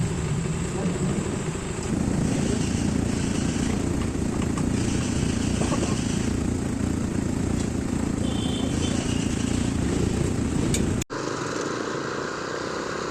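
A Rusi Classic 250i motorcycle engine, its throttle body just cleaned and spark plug replaced, idles roughly and unevenly as if about to stall, running loud and close before cutting off abruptly near the end.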